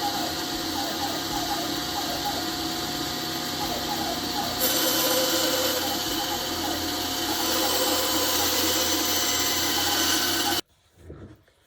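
Cutting out a marked bow shape for a small homemade crossbow, a steady close rasping, sawing grind from a power tool through wood, continuous and loud for about ten seconds before stopping abruptly.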